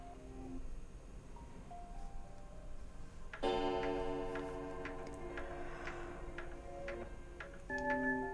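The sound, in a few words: clock ticking in video game Slay the Alice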